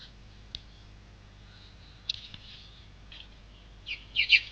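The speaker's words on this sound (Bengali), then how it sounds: "আমার মনে হয় এখানে কিছু বাচ্চা চড়ুই আছে। তাদের কিচিরমিচির আওয়াজ সকালের" Sparrow chicks in a nest give faint, scattered high chirps and clicks, a few quick bursts growing busier at the end over quiet background hum.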